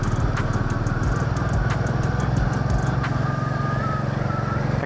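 A Royal Enfield Classic 350 motorcycle engine thrums steadily while riding through Dhaka streets, a constant low mechanical drone close to the listener with faint higher clicks and passing noise above it.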